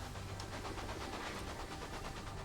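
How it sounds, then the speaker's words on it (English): Trains running on tracks in the railway strategy game Railway Empire, a steady rumbling rail noise with a faint rhythmic clatter that persists at even loudness throughout. "trains moving here"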